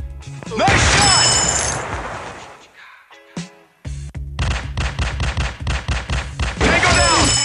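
Grenade blasts in the Teddy Bear Gun Strike shooting game, a loud burst with a crashing tail, a short gap, then more thuds and rapid impacts around a second blast.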